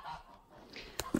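Geese on a farm give a couple of short, loud honks near the end, standing out over a faint, steady background.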